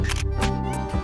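Rapid camera shutter clicks from a single-lens reflex camera firing in quick bursts during a photoshoot, fairly close and steady, over a low background hum.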